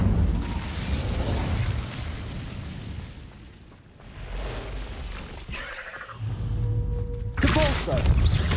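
Bombarda spell blasts in Hogwarts Legacy, heavy booming explosions with rumbling tails, fading to a lull midway and then a fresh burst of blasts and crackling near the end, loud over game sound.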